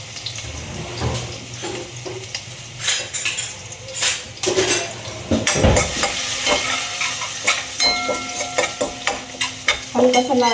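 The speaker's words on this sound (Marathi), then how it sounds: "हलकासा लाल होऊ द्यायचा तो लसूण आणि मग कांदा टाकायचा." Garlic frying in a pan as the base for a leafy green vegetable dish, with a steady sizzle under repeated clinks and scrapes of a spoon stirring against the metal pan, close and busy throughout.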